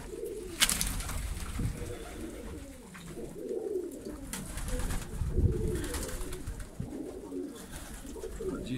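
Pigeons coo softly and repeatedly inside a home pigeon loft, several low rolling calls overlapping at close range, with occasional faint rustles and no voices.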